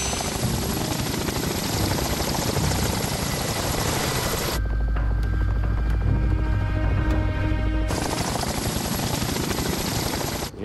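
A helicopter thumps loudly and continuously nearby at a dinosaur excavation site, its rotor chop and engine whine steady throughout, with a brief change in tone midway.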